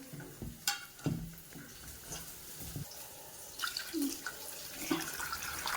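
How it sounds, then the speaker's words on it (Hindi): Water poured into a spiced kadhi mixture with asafoetida, chili, ginger, fenugreek and cumin in a home kitchen, splashing and trickling in short uneven bursts with knocks and clinks between them. "अब इसमें हम पानी डालेंगे।"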